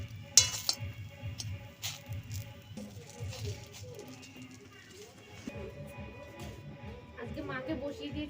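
Coconut-filled patishapta pitha frying gently in a pan, with soft sizzling and metal utensil clinks and scrapes under continuous nearby talk.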